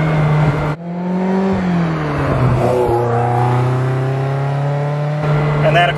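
A 1978 Ferrari 308 GTB engine revs hard while driving, its loud close tone climbing and dipping through several rises in pitch with a brief gear change, steady and strong throughout.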